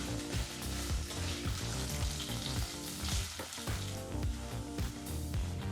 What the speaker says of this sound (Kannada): ಲೋ ಫ್ಲೇಮ್ನಲ್ಲೇ ಎರಡರಿಂದ ಮೂರು ನಿಮಿಷ ಇದನ್ನೆಲ್ಲ ಫ್ರೈ ಮಾಡ್ಕೋಬೇಕಾಗತ್ತೆ ಬಿಸಿಯಾದಂಥ ಎಣ್ಣೆಯಲ್ಲಿ